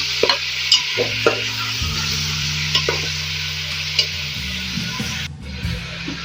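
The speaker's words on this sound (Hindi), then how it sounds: "अच्छे से फ्राई करेंगे हम बीफ को।" Beef fries in a karahi while a spoon scrapes and stirs it, loud close sizzling with repeated metallic scraping strokes and a low steady hum from the stove underneath, no voices.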